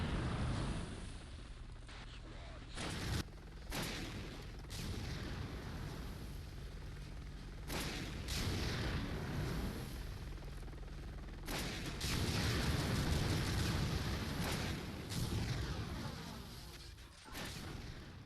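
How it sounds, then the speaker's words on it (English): RPG rockets blast Marines in the Counter-Life Half-Life mod, a run of loud booming explosions and crackling gunfire layered densely over each other, with sharp bursts standing out amid continuous game battle noise. "it's very satisfying to blow up a bunch of Marines with a blast from the RPG"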